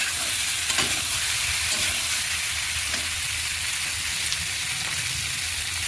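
Koi fish frying in oil with spices for a cauliflower curry, a steady dense sizzle with faint stirring scrapes throughout, close and even.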